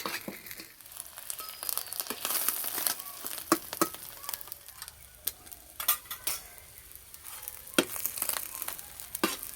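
Snacks for a soft children's tiffin frying in a pan, a soft sizzle broken by frequent sharp clinks and scrapes of a utensil against the pan, with no talk.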